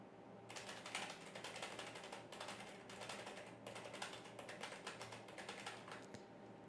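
Rapid keyboard typing in bursts of clicking keystrokes, close to the microphone but quiet, with brief pauses and no speech.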